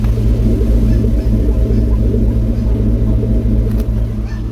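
A 1997 two-door Chevrolet Tahoe idles close by, its engine giving a loud, steady, deep rumble with no voices over it.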